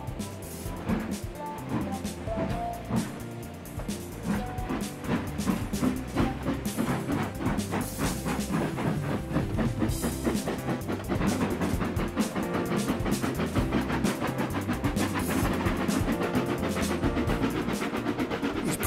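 Train in the Trainz Railroad Simulator game rumbling along with dense rhythmic clicking and clattering under a layered mechanical hum, loud and continuous, building slightly toward the end with no talk.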